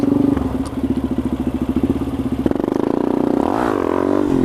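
A Suzuki R90 motorcycle revs loudly inside a tunnel, its engine pulsing in a fast rough rhythm before surging into a higher, echoing roar that reverberates off the walls.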